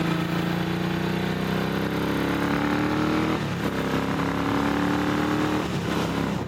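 A Ducati motorcycle rides on a damp road running on new tyres, its engine a loud, steady drone close to the microphone that rises in pitch as it accelerates, with two brief dips where the rider shifts gear.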